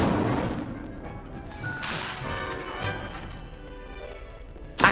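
An Incendio fire spell is cast in Hogwarts Legacy, a whooshing burst of magical flame with crackling impacts and rumbling booms, fading into a lingering roar before a sharp hit at the end.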